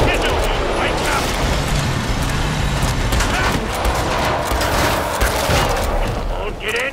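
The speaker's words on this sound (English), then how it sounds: "We've got a flash bomb!" A flash bomb goes off in Killing Floor 2 amid dense, continuous gunfire and explosive battle noise, loud and sustained throughout with a voice shouting over the chaos.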